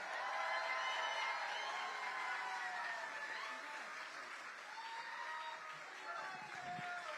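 A rally crowd in Austin, Texas claps and cheers steadily, a dense wash of applause with voices shouting and whooping throughout.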